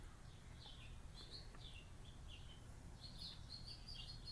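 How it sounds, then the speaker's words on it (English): Small birds chirp and tweet outside on a balcony, a few brief high calls scattered over several seconds, faint and distant against a low steady background hum. "I can hear your birds, Donna, behind you."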